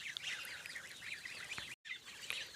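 A flock of geese honks and chatters continuously nearby while eating freshly cut grass, overlapping calls forming a busy, nasal racket with a brief cut partway through.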